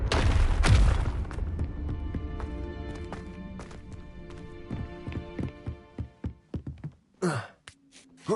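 A Confringo spell in Hogwarts Legacy bursts with a loud fiery blast, then a scatter of sharp clattering impacts and thuds fading out over several seconds, ending in a few brief whooshes.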